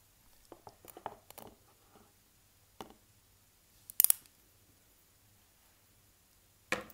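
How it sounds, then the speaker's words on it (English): A few sharp, isolated snips and clicks of small scissors cutting suture thread in a quiet room, spaced apart with soft handling sounds between. "take the scissors, and we're going to want to cut it so there's about a centimeter left"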